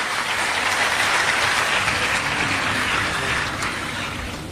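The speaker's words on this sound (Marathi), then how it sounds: "सगळ्यांनी जिल्हाधिकारी महोदयांचं आपण टाळ्या वाजून स्वागत करूयात" An audience claps in a dense, sustained burst of applause for a district collector. It stays loud for several seconds and eases off slightly toward the end, with no talking over it.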